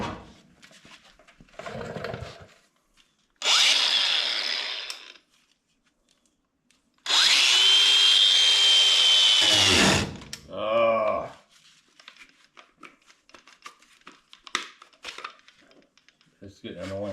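A cordless cutoff wheel on a 65 Chevelle quarter panel spins up in two loud bursts of high whine, the second longer and winding down in a falling tone, with quiet clinks and handling noise between them.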